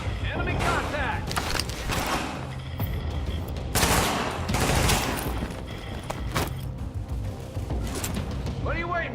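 Firefight in The Division video game, with bursts of automatic weapon fire and sharp shots rising and falling over several seconds while a voice calls out amid the loud, cluttered action.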